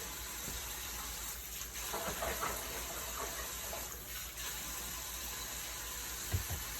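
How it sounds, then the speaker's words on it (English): Steady running tap water from a kitchen sink faucet while hands are washed, a continuous close gush with slight swells and a brief clunk near the end. "I'm going to wash my hands,"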